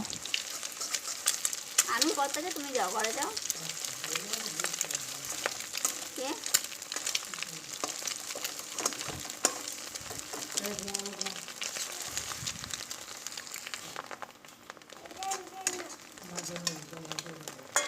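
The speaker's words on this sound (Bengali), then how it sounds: "আমি ডিমগুলোকে ভেঙে ভেজে নেব" Eggs sizzle and fry steadily in a hot kadai while cooking chowmein, a continuous crackling hiss with a voice talking intermittently over it.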